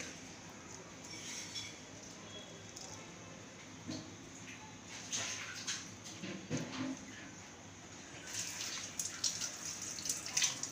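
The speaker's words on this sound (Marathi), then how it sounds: "नळाखाली असं स्वच्छ धुवून घ्यायचं।" A tap runs while cleaned crabs with their hard top shells removed are rinsed under it, a soft, steady splash of water with occasional louder sloshes and clinks as the pieces are handled.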